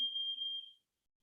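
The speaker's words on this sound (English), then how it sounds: "Someone tripped the fire alarm." A fire alarm goes off in a building, a single steady high-pitched electronic tone holding for under a second before cutting out, no voices alongside.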